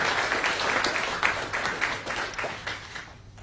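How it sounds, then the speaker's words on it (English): A forum audience giving Queensland Senate candidates a round of applause, fairly sparse, individually distinct claps from a modest crowd that gradually thin and fade toward the end. "Ladies and gentlemen, please give all our 9 speakers a round of applause."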